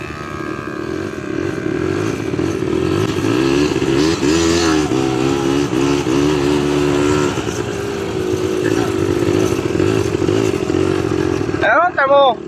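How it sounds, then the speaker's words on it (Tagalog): An ATV engine drones steadily and loudly during an outdoor ride, with rising and falling revs. Voices shout and cheer over the engine near the end. "Itong malupit na motor, kahit saan, pwede."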